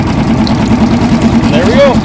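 Outboard boat motor running steadily with a low continuous hum, heard close with someone talking over it throughout.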